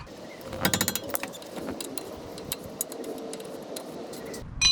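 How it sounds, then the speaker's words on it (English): A hand ratchet loosens a tie rod nut on a 1998 car's steering, producing close, crisp bursts of rapid clicking with short pauses between strokes. "Okay, loosening the nut."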